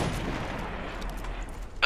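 Gunfire crackles through a dense battle rumble in the real-time strategy game Iron Harvest, steady and continuous for about two seconds, with a sharper burst at the very end.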